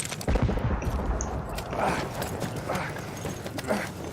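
Rifle gunfire in a Battlefield 1 trench battle, a string of sharp shots and distant volleys over a loud rumbling backdrop, with a brief voice in the mix.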